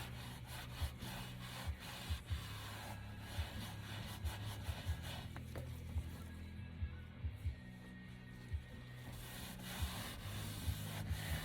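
Steady back-and-forth scrubbing on a leather car seat in a Camaro SS interior, stripping old dye, with rhythmic rubbing strokes and small periodic knocks continuing close up throughout, no talking.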